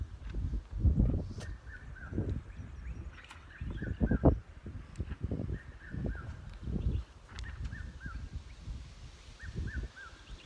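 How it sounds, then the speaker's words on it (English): Repeated bird calls of a distinctive African species on Pebblespring Farm, short rising chirping phrases recurring every couple of seconds in the background over low rumbling outdoor noise and occasional footstep-like thuds. "Listen to that bird in the background."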